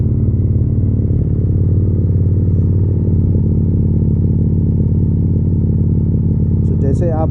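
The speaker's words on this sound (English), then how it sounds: "let's start the bike." A Harley Davidson motorcycle idles after a cold start, a loud, steady low engine rumble with high revs, continuous throughout, with a brief rattle near the end.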